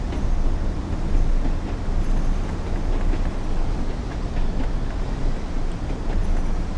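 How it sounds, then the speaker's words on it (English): A train in the video game Train Sim World rumbles along at a steady pace, with a dense continuous low roar and faint rhythmic clatter of wheels on track, no talk heard. "Is that another train coming in, or another train that's just"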